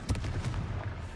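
Confringo spell blasts in Hogwarts Legacy, a dense run of booming, crackling explosive bursts that keep going without a break across the whole moment, loud and close, with heavy low rumble under sharp bright cracks and no voices.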